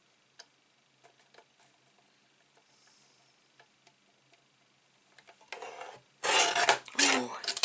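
A paper sentiment for a stationery box gets trimmed: faint scattered ticks and taps come first, then loud rasping cutting strokes in two bursts near the end.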